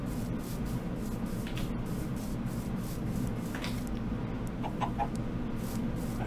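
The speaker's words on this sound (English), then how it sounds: "I got eggs, I got chickens." Chickens cluck in Minecraft over a steady rubbing, scraping background, with short clucks repeating near the end.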